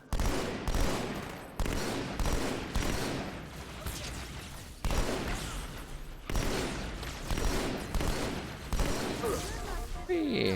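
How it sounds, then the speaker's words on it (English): Rapid bursts of gunfire from the video game Halo 2, loud and near, coming in repeated volleys with brief pauses, with a player talking over the shooting. "Like there was gunfire."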